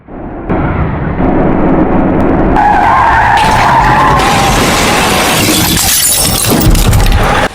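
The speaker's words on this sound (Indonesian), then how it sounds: "bus tersebut oleng ke kanan hingga menabrak tiang lampu lalu lintas" A bus in Bus Simulator Indonesia skids and crashes into a traffic light pole, with loud tyre screeching, engine roar and a shattering impact that stays loud throughout.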